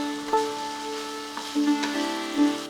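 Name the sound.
Gobindobhog rice frying in pan for pulao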